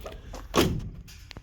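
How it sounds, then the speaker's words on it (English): A single solid thud of a car door shutting on a restored Plymouth Belvedere, close and distinct, with faint ambient noise before and after. "You guys got the doors shutting really good."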